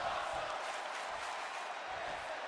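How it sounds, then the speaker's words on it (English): A WWE wrestling arena crowd roars loudly and continuously, a dense sustained wall of cheering and shouting with no clear breaks. "The sound of this crowd is deafening"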